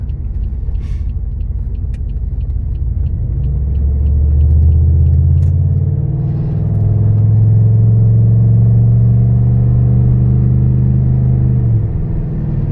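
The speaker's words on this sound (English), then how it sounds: "You might be able to hear a little bit of a squeak. That is the exhaust from the downpipe." A car with a loose exhaust downpipe drives along, its deep engine rumble rising and falling steadily over about thirteen seconds; any squeak from the pipe stays faint beneath the drone.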